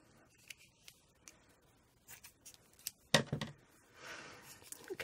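Scissors make a few small, quiet snips while trimming a homemade Christmas decoration made from a vintage flour sifter, with light handling rustles around the cuts.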